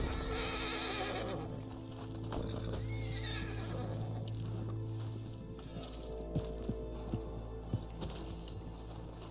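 A horse in Red Dead Online lets out a loud, long whinny, then hooves clop in a steady run, with a few sharper hoof thuds near the end over a low hum.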